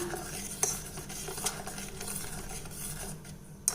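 Homemade tomato sauce simmering in a pan as it is stirred, a quiet, soft bubbling with low scraping and a few sharp clinks of a spoon against the metal.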